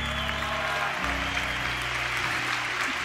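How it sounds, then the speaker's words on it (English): An audience at a motivational talk applauds, a steady wash of clapping running under a low murmur for about three seconds. "Clap it up if you're a fucking nerd."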